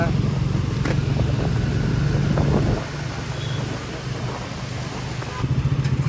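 Heavy road traffic with cars and motorcycles near Besant Nagar beach in rain and cyclone wind, a loud continuous engine rumble and wind roar that dips briefly midway, with a voice talking over it.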